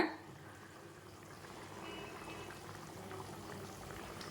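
Egg kurma gravy boiling in a pot, a faint, steady bubbling simmer heard close and quiet throughout.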